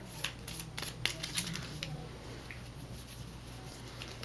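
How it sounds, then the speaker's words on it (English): A deck of cards is shuffled, with quick papery riffling clicks early on fading into a soft rustle. "so we're going to shuffle the deck"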